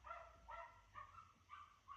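Pet bird imitating a dog's bark, four short faint yapping barks spaced about half a second apart.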